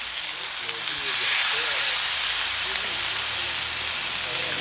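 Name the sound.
white tuna searing on a hot plancha without oil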